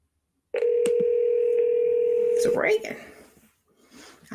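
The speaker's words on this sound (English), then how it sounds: "It's ringing." A single long electronic telephone ring tone sounds steadily for about two seconds on an outgoing call, clear and close, then cuts off into faint background noise.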